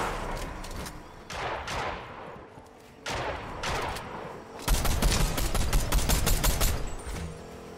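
Gunfire from a new Season 3 weapon in a shooter game, with short bursts of rapid automatic shots that pause and resume. A longer, louder sustained burst comes near the end. Close and forceful, with no talk over it.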